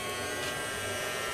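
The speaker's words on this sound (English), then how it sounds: "Let's try out our little Dyson helper." Casdon children's toy Dyson Ball vacuum cleaner switched on, giving a steady, close electric motor buzz and whine that holds evenly throughout with no talking.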